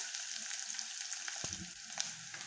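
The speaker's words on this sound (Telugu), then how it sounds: "ఆనియన్స్ తొందరగా ఫ్రై అవుతుంది" Onions fry steadily in hot oil for a tempering in a village-style ponnaganti leaf curry, giving a dense, continuous close-up sizzle with a few sharper crackles and stirring knocks.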